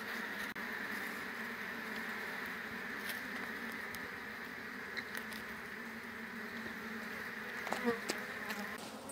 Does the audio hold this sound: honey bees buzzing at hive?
yes